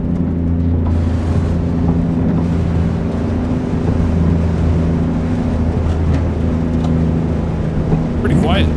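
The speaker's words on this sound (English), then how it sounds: "let's listen to the Jake brake in this thing" Jake brake of an Eagle 9900i truck with an ISX engine in a driving game: a steady, fairly quiet low engine drone with rumbling tones, rain and wind noise over it, and a person talking.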